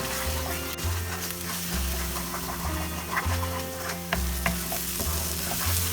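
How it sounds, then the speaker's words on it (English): Spice masala of cumin and coriander powder with salt sautéing in oil for eggplant curry, a steady sizzle and frying crackle broken by repeated rhythmic scraping stirs of a spoon in the pan. "Saute it till the oil separates."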